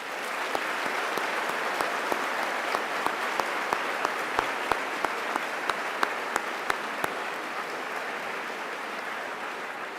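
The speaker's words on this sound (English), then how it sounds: "Please join me in a round of applause to thank all men and women who have served our country." An audience at a college liberal arts commencement applauds to thank military graduates, a large room of steady clapping with sharp nearby claps standing out, then fading toward the end.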